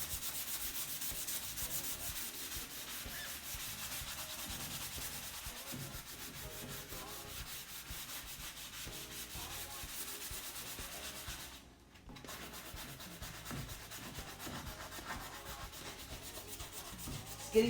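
Wooden stairs are sanded by hand, a continuous close scratchy rubbing that runs steadily throughout with only a brief pause near the end.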